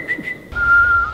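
Someone in the audience whistles during a speech in the European Parliament: two short high whistle notes followed by a longer sustained steady whistle, loud and clear against a faint room background.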